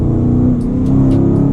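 A 2023 Dodge Challenger Widebody Shaker Scat Pack 392 pulls hard, its V8 holding a loud, steady low roar from inside the car with faint higher whines over the top, and no one talking.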